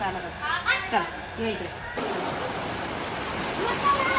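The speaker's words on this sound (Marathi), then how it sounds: "पाऊस चालू आहे" Steady rain falling outdoors, a dense even hiss that starts suddenly partway through and continues to the end, with people talking over the first part.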